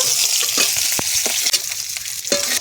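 Small sea chela fish frying in hot oil for a fish and potato curry, a continuous close sizzle broken by sharp clicks and scrapes of a spatula lifting the fish out.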